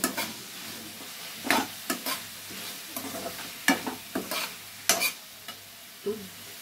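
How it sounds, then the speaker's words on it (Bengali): Small chicken pieces stir-fried in a pan with Kashmiri chilli tomato paste, a low sizzle under repeated sharp scraping stirs at an uneven pace, close and fairly quiet, with no talking. "এই চিকেনগুলোকে দিয়ে একসঙ্গে একটু নাড়াচাড়া করে নেব।"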